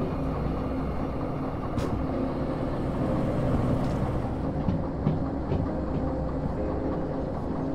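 A freight train in the Derail Valley game rolls through a rail-yard turn with its brakes applied. A steady, loud rumble of wheels and wagons plays alone, with faint clicks and brief metallic squeals.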